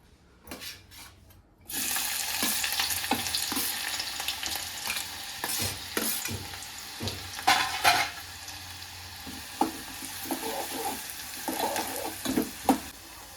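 Chopped onion dropped into hot oil for misal pav bursts into a loud, steady sizzle after a short quiet start. The frying continues close by, with occasional stirring scrapes and clatters and no talk.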